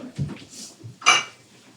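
Chopped shallots dropped into a small bowl: a couple of soft clinks and a brighter ceramic knock near the end, close and brief.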